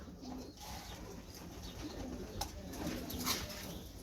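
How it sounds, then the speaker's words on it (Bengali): A mated pair of large pankhi (fantail-type) pigeons of an old line cooing steadily, with soft repeated low coos close by over a constant background hum and no talk. "পুরান লাইনের কবুতর দেখেন জোড়াটা"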